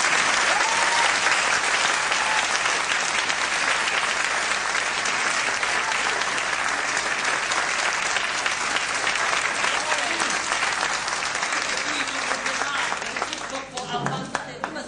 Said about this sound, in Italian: mi sembra un applauso troppo forte